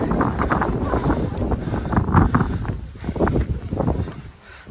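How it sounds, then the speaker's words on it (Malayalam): Strong wind buffets the microphone outdoors in Wayanad's hills, a steady low roar with gusty surges throughout, loud and close. "നല്ല കാറ്റ്, അടിപൊളി കാറ്റ്."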